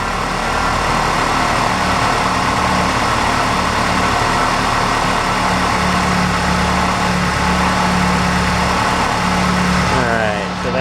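A Ford Ranger engine idles with a steady, loud, even hum during a fuel pressure test, continuous with no breaks.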